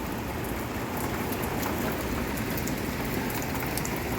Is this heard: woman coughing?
no